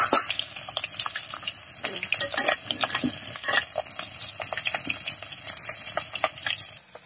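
Fish frying in a pan, a steady close sizzle with crackling spatters and occasional stirring or scraping sounds running continuously through the whole stretch.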